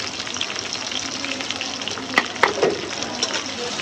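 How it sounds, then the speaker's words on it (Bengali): Onion, garlic and green chillies frying in oil for a dish of taro leaves, a steady broadband sizzle throughout with a few sharp spatters and clinks near the middle. "ভাজা ভাজা করে লই"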